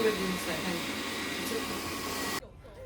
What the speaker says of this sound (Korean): 맞아 맞아 청소기야 청소기 청소기